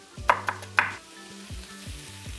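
Lamb, carrot and shallot fry in a cast iron pan with a soft, steady sizzle, broken early on by three sharp clanks of a utensil against the pan, then a low background hum.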